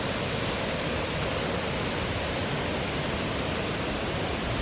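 Waterfall on the Dadou river, a steady, dense roar of falling water filling the air evenly throughout, with no voices.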